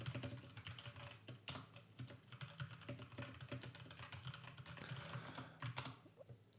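Computer mouse clicks and keyboard-like tapping come through a VeGue VM70 dynamic microphone, a quick irregular patter of close, fairly quiet clicks with no talking.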